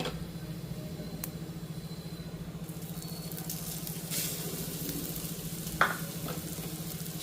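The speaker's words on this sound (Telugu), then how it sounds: "సో పోపు బాగా వేగింది ఇప్పుడు మనం ఆ పచ్చడి వేసేసుకుందాం ఇందులో" A betel leaf and coconut chutney goes into a hot tempering in a pan and keeps up a steady sizzle, with a couple of brief clinks of a utensil.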